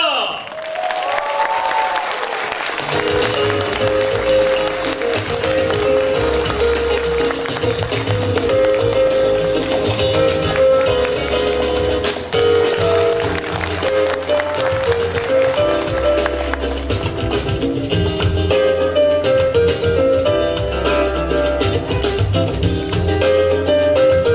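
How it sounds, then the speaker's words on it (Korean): A large audience at a political lecture in Jeonju cheers and applauds loudly and steadily to welcome a lawmaker to the stage, with music playing underneath the dense clapping. "안철수 의원님을 여러분의 큰 함성과 박수로 모시겠습니다"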